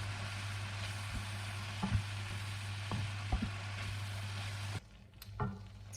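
Shredded carrot filling being stir-fried in a pan gives a steady, close sizzle with a few scraping stirs, then cuts out near the end, leaving softer scrapes.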